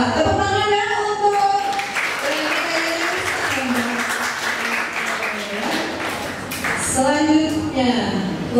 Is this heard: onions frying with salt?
no